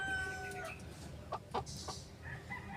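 A chicken, apparently a lame bird, clucks a few times in short close calls over a quiet background hum, with a faint crow-like note near the start.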